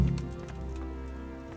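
Horse hooves clip-clopping in the Kingdom Come: Deliverance video game: a short burst of hoof steps at the start, fading into a low steady background hum.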